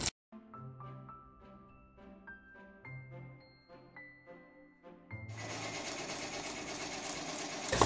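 Industrial sewing machines assembling a garment in a fashion trade workshop: a steady whirring, stitching drone with tonal hums, growing louder and denser in the final seconds, with no talk.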